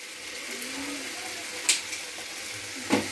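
Chicken being stirred in a frying pan with turmeric powder, a low continuous sizzle under scraping spatula strokes, with a couple of brief sharper knocks.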